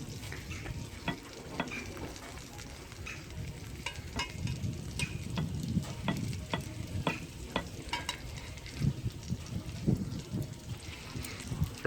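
A homemade Jamaican sardine patty fries in a pot outdoors, giving a continuous soft sizzle with repeated small crackles and spatters throughout, fairly quiet and without talk.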